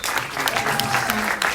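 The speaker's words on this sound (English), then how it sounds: "Let's give a big round of applause" An audience applauds warmly as an interview with a documentary director wraps up, the steady clapping filling the room with a dense, sustained wash at an even level throughout.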